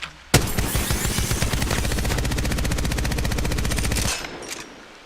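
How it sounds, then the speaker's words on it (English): Devotion energy light machine gun firing in Apex Legends, one long sustained burst of rapid shots that speeds up as it goes, loud and close, then a short tail of mechanical clatter once the firing stops. "Devotion is another weapon that I really like, and that's because of the sheer amount of damage that it can do."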